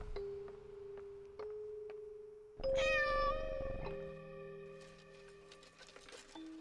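Cat meowing in the horror video game Layers of Fear: one drawn-out, wavering meow rises loudly mid-clip over a quiet background of steady hums and faint ticks, with no talk.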